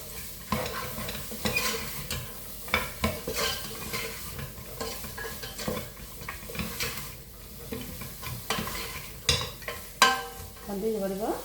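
Chicken fried rice with mixed vegetables stirred in a frying pan, a utensil scraping and clattering in irregular strokes over a steady sizzle, close and fairly loud, with no voices.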